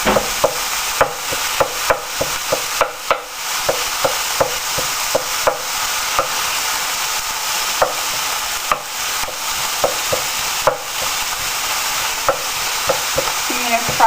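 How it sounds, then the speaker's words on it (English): Hamburger meat fries in a pan with a steady loud sizzle while a spatula scrapes and taps the pan in quick, regular strokes throughout, close up and without talking. "You're going to fry up your hamburger meat."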